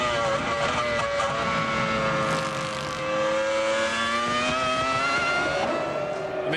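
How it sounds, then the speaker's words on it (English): A Sauber Formula One car driven by Mika Salo at the 2000 Austrian Grand Prix, its high engine note holding steady then easing as it comes into the pits, loud and continuous throughout. "Mika Salo on the Sauber comes in."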